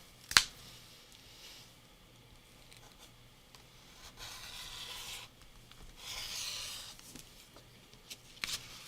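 Scissors cutting paper for a craft project, a quiet snipping and rasping that comes in a few soft strokes, with a sharp click near the start and one near the end.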